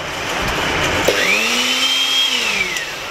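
A Miyko electric grinder motor spins up at high speed, a steady loud whine with a rising then falling pitch, running continuously for about two seconds over a constant background hum.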